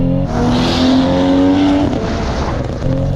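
A Toyota GR Supra MkV A90 engine revs hard and climbs in pitch, a throaty roar that peaks and drops as the driver accelerates, close and loud.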